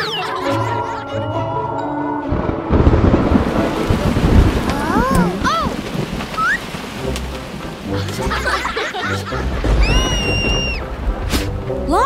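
Cartoon thunderstorm: a rumbling thunder roll swells midway amid steady rain hiss, with cartoon sound effects and music layered on top.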